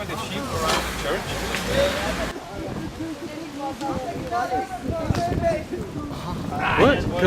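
Sheep bleat near a church in Armenia, several calls rising over a noisy outdoor scene with wind, passing traffic and people talking throughout.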